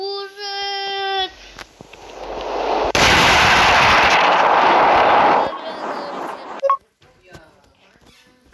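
A laser weapon blasting a planet in the video game Solar Smash, a loud sustained roaring burst with rumbling explosion noise after a short electronic tone, then fading out with brief game effects.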